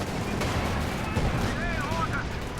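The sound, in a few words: infantry gunfire in video game Company of Heroes 2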